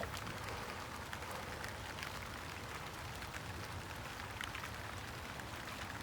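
Rain falling outdoors in Washington in cool autumn weather, a faint, even hiss of drops pattering on surfaces throughout, with no voices.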